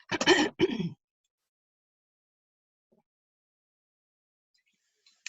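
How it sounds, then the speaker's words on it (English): Someone clears their throat once, loudly and close, followed by near silence. "I'm going to mute for just a minute, clear my throat."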